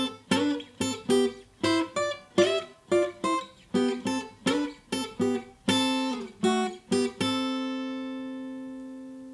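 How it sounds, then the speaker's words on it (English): Acoustic guitar picking the intro licks of a song, a quick run of crisp plucked notes in short rhythmic phrases, close and clear, ending on a ringing note that fades out, with no talking. "We're going to start off by breaking down the intro section."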